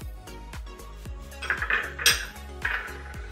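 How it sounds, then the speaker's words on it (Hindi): Fennel seeds added to a bowl while making paan mukhwas: a quick series of light clinks and taps against the bowl with a soft rattling pour in the middle, close and fairly quiet, no talking. "तो हमें ये सौंफ इसमें ऐड करना है।"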